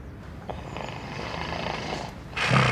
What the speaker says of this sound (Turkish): Allah'ım bu nasıl bir horlamadır ya?